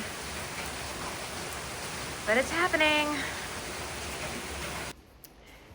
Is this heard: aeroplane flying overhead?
no